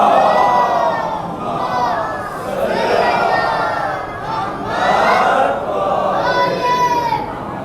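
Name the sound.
crowd chanting salawat at a Muharram majlis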